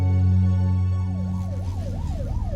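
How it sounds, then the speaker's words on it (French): Police car siren wailing in a rising and falling pattern over a steady low engine rumble, loud and close, building as it starts up; the chase involves a Ford Bronco. "La sirène de police retentit."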